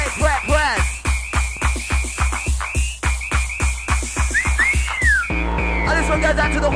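Whistles blown by a club crowd shrill in a fast, repeated rhythm over a pounding dance beat, with a few sliding whistle calls before the track shifts into a denser groove.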